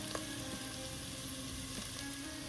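Tablespoon of minced garlic frying in butter in a pan, a quiet, steady sizzle with faint crackles, continuous and close.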